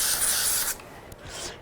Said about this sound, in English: Give it a bit of spray glue.